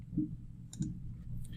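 Mouse right-click during photo-editing work on a computer: a couple of soft, faint clicks spaced apart against quiet room hum, with no talking.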